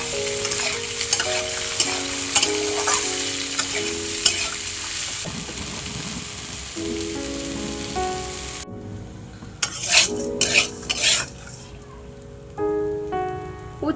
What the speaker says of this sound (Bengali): এবারে উচ্ছে আলুগুলো একসঙ্গে ভেজে নেব।